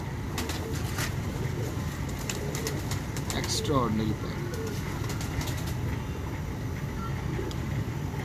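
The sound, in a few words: pigeons cooing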